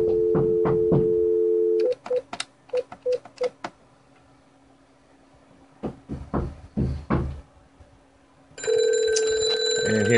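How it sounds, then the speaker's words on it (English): A Cisco CP7971G-GE IP telephone in SIP mode goes from a steady tone to scattered keypad-like clicks and beeps, then a loud electronic ring starts near the end. No voices are heard. "And here's the red phone ringing"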